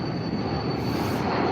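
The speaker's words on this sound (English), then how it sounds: "There's a lot of fucking planes today." Airplanes overhead make a steady, broad jet roar that stays loud and constant over a short stretch, with no talking.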